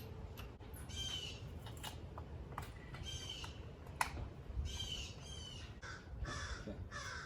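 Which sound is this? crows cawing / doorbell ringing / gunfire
crows cawing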